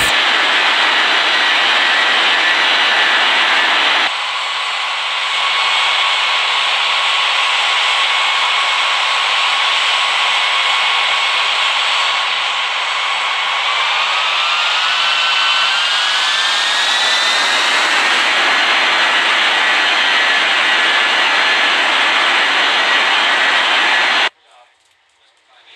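Jet airliner engines spool up and roar steadily through a takeoff roll in an air traffic control simulation game, the whine rising in pitch partway through before cutting off abruptly near the end.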